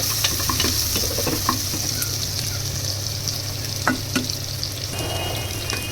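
Chopped onion sizzles in hot oil in a pressure cooker, a steady close frying hiss with occasional scrapes and taps of a spoon stirring.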